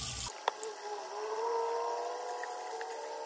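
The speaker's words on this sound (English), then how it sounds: "First I'm gonna wash my hands." Tap water runs steadily into a sink as hands are washed before preparing fried chicken in a home kitchen, a continuous close rushing hiss with one brief knock near the start and no talking.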